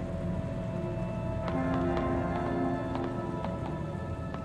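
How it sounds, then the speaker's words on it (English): Heavy rain pours steadily in the horror video game Detention, a dense continuous hiss of drops with occasional sharper patters standing out, loud and unbroken throughout with no talking. "Wow, it's raining pretty hard already."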